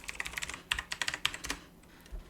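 Quick, light keystrokes clatter on a computer keyboard while someone types a password, a short run of close taps that pauses and ends with a single final press.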